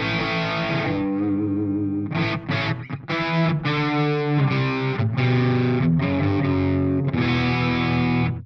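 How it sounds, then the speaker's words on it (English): Electric guitar through an amp's gentle crunch channel with no pedal or reverb, mild distortion, chords strummed and sustained in a steady loud passage with brief gaps between phrases. "It's a very gentle crunch channel."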